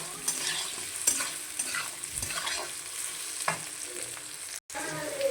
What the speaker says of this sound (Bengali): দেখো আলুগুলো সুন্দর ভাজা হয়ে গেল।